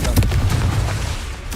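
Repeated booming blasts from the Confringo spell in Hogwarts Legacy, a dense run of heavy low thuds over about a second and a half, loud and close, with a brief sharper burst near the end.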